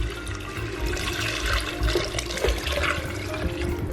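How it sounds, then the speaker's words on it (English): Six cups of water pour steadily into a soup pot over sautéed mirepoix, a continuous splashing rush filling the whole moment at close range with no talking. "I've got 6 cups of water here that I'm adding."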